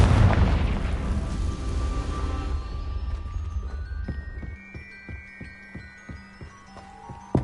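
In the video game Hogwarts Legacy, a Confringo fire spell goes off with a loud, booming explosion. A rumble follows and fades into scattered crackles and tinkling debris.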